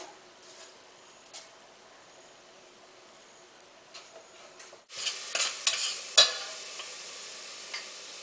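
Fenugreek dropped into hot oil in a pan for a Persian fish stew starts a bright sizzle, with a utensil scraping and stirring through it in short crackling bursts after a quieter lead-in.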